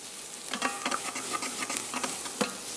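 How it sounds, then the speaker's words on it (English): Garlic and onions sizzle in a pan over medium to medium-high heat, with a steady crackling hiss and a few soft scrapes and clinks as they are stirred, close and fairly quiet. "we don't want the garlic to burn, so make sure you stir"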